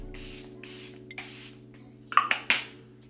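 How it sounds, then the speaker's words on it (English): Charlotte Tilbury setting spray is pumped as a fine mist onto a made-up face, with several short, close hissing bursts near the end following a quiet stretch. "just spray a fine mist over it"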